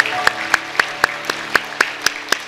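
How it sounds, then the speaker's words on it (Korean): A church congregation claps in celebration during a Sunday worship service, the sound coming as a series of sharp, evenly spaced strikes that ring out over a low sustained musical tone. "우리 큰 박수로 축하하겠습니다"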